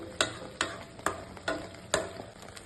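Chana masala spices frying and being stirred in a pan, a series of sharp scraping spoon strokes about every half second over a soft, close sizzle.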